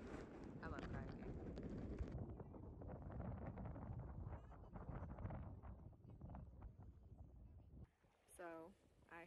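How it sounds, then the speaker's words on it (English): Strong wind buffets a microphone held in a waterproof bag on a kayak outing near Las Vegas, a loud, continuous rumbling roar that eases near the end, with a person talking over it throughout. "It's very windy out here"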